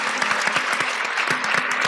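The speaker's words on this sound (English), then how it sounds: "I'm seeing some people applaud. Yes, applause." Audience applause at a panel discussion on reparations and the racial health gap: dense steady clapping from a room of people, with a few sharper claps standing out, no voices over it.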